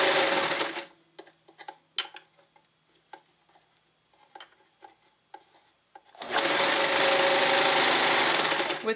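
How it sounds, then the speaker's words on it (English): A sewing machine stitches sweater knit fabric in two loud, steady whirring bursts at the start and end, close by, with quieter clicks and handling sounds in between. "and then sew."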